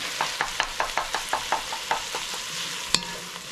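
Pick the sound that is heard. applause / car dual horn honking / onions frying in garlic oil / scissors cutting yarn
onions frying in garlic oil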